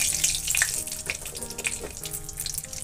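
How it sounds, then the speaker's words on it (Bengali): Whole cumin seeds tempered in hot oil in a pan, with more oil added, producing a steady, close crackling sizzle with fine popping throughout. "একটু গোটা জিরে ফোড়নে দেব, একটা কাঁচা লঙ্কা"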